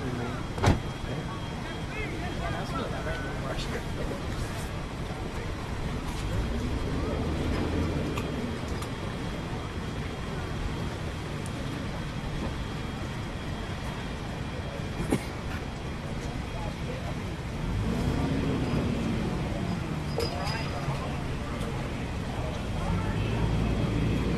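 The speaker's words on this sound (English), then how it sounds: "Here come the SWAT vehicles, they are now moving in." SWAT vehicles move in during a curfew night in Ferguson, a low, rumbling engine and road noise rising and falling at a distance, with a few sharp knocks and people talking over it.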